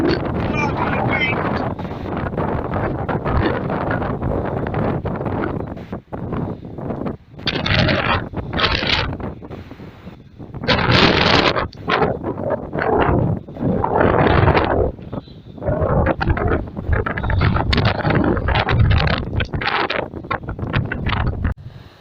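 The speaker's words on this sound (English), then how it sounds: "struggling to get out of that wind" Strong wind blows on an open marsh hill, buffeting the microphone in loud, gusty roars that rise and drop across the whole span, with brief quieter lulls between the gusts.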